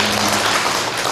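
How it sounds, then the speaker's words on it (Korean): Congregation applauding at a church service in Korea, a dense, steady wash of clapping filling the short moment at close range with no voices over it. "박수 한번 해주세요."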